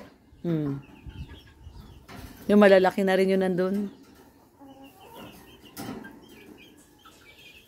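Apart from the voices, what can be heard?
chickens clucking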